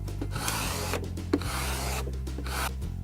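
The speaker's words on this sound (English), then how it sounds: "Then take your squeegee and squeegee it down to secure it to the wall." A squeegee rubs and scrapes across a vinyl stencil pressed onto a wall, with short repeated strokes over a faint background hum, close and fairly quiet.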